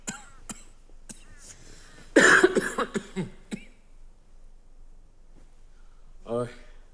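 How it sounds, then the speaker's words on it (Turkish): A woman with a bad cough lets out a harsh burst of several coughs and throat-clearing sounds close by, with quieter talk and small sounds before and after. "Kötü öksürüyorsunuz."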